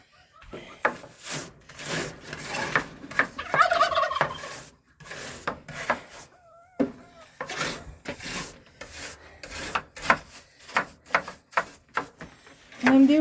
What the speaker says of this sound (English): You are such a nosy chicken.